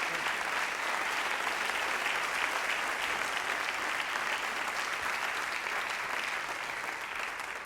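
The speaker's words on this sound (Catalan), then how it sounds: "un aplaudiment pel millor tastador" Sustained, dense applause from a large audience fills the hall at a Catalan wine awards gala, honouring the best taster, steady and loud throughout before easing slightly at the end.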